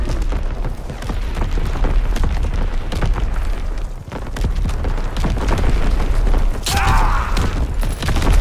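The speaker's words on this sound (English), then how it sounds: "Incoming enemy artillery!" Enemy artillery barrage in the Call of Duty: WWII game, a dense, loud, continuous roar of blasts and rumbling debris with sharp cracks throughout, a brief dip midway, then heavy booms resuming.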